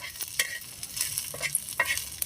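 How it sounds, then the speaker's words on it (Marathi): Chana dal dry-roasting in a pan, quiet scraping and stirring clicks in an irregular rhythm over a faint sizzle, heard up close with no speech. "आता हे चण्याची डाळ थोडीशी भाजून घेऊ"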